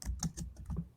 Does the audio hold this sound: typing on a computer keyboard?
yes